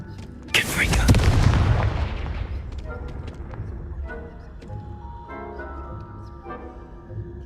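A Confringo blasting spell explodes in Hogwarts Legacy, a sudden boom with a rumbling, crackling tail lasting about a second, followed by quieter game effects and scattered small impacts.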